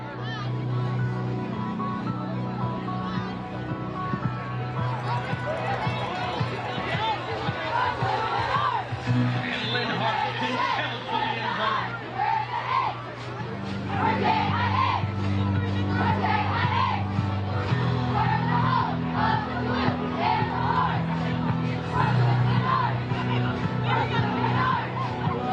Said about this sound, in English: Let's show us your favorite cheer.